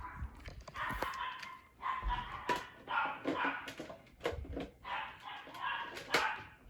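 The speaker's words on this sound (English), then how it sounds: "So if I open my door, you might hear some barking." Dogs bark indoors in repeated short bursts with some yips and whimpers, moderately distant and fairly quiet, as if heard through an opening door.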